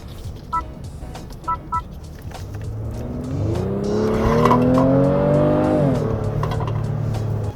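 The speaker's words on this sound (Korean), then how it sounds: "스포츠 모드에는 악셀 반응 빨라지는 것도 있지만 가상 엔진음이 들어가기 때문에 또 공격적인 엔진 음색을 들을 수 있습니다" A Honda Pilot Black Edition SUV engine idles low, then revs up in sport mode with a rising, aggressive synthetic growl that holds steady before settling back; a few short electronic beeps sound first.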